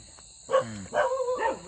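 Dogs outdoors at night give a few drawn-out, wavering howls and barks at moderate distance. A steady high insect-like whine runs underneath throughout.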